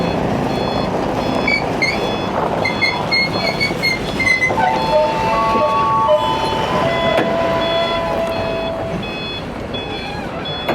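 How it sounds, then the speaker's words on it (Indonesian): A car's reversing alarm beeps in a steady repeating pattern as it backs into a parking spot in Medan, Indonesia, set against loud engine rumble and busy street noise. "ini mobil Arif lagi mundur, mau parkir juga."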